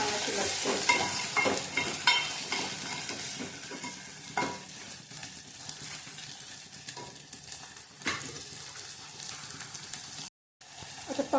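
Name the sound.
field beans (pavte) sizzling while roasting in oil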